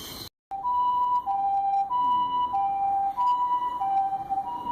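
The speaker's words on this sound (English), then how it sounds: "there's an ambulance." An ambulance siren in a Japanese street wails in a repeating two-tone pattern, clear and fairly close, with faint traffic beneath.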